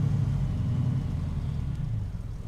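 A 1936 Plymouth Roadster engine idles roughly with a low, steady rumble close by, loud and continuous and slightly uneven as it settles.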